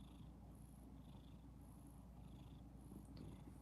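A cat purrs close up in a steady, continuous low rumble that holds evenly from start to finish, with no voices.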